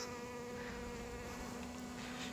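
Apis cerana bees, an aggressive colony brought home for transfer into a hive box, give off a steady close buzzing drone with a sustained hum running throughout, no voices.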